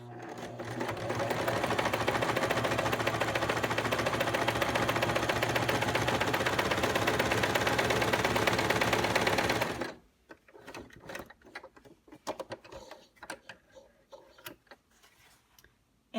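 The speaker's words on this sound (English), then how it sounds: "Now we're going to top stitch right along this edge of the fabric." A sewing machine top-stitches a pojagi seam in fabric with a fast, steady mechanical whir for about ten seconds, then stops, leaving scattered clicks and handling noises.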